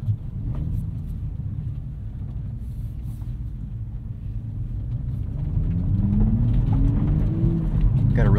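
A 2023 Toyota Supra with a six-speed manual warming up in normal mode: a low, steady exhaust rumble that grows slightly louder and fuller near the end.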